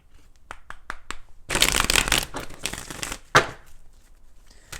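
Tarot cards being shuffled by hand during a reading: a few quick riffle taps, then a longer burst of papery shuffling, another sharp riffle, and softer card flicks, close and clear with no talking.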